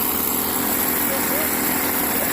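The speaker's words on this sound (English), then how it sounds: "He's blowing the holes out, getting dust out so that we can squirt epoxy in there and then set rebar." Compressed air blows dust out of drilled holes in concrete footings, a steady loud hissing rush with an engine drone behind it through the short clip.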